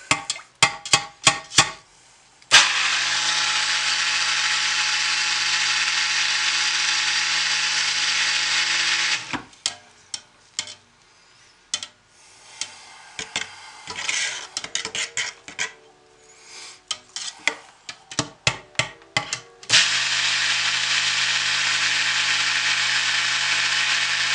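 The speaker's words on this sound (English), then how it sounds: "I can always stick blend some more, and I probably will, truth be known." A stick blender whirs loudly in cold process soap batter for Christmas soap, running in two long steady bursts separated by a stretch of knocks and handling noises, with short on-off pulses at the start.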